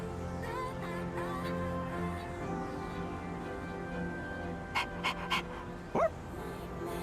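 The dog Koromaru from Persona 3 Reload pants softly and steadily beneath sustained background music, with a few short yips and whimpers near the end.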